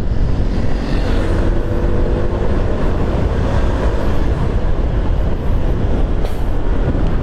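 Honda Stylo 160 scooter ridden at high speed, a dense, steady roar of engine and rushing wind noise, loud and close throughout without a break.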